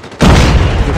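A grenade goes off in Call of Duty Mobile: one sudden, loud blast that rolls on as a dense, rumbling roar for the rest of the moment.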